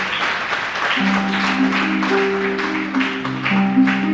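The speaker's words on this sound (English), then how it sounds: "Let's welcome her with a big round of applause as she begins this enlightening" An audience applauds to welcome a speaker at a school reading and creative writing event, steady clapping throughout with sustained musical tones playing over it.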